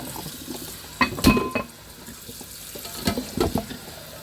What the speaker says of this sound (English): I'm going to fill this up with cold water.